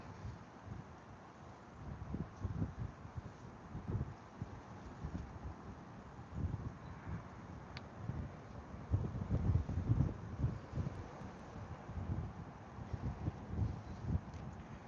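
Warm, humid wind rushes in through a car's lowered windows as a steady low buffeting roar that rises and falls in gusts, with no clear talking.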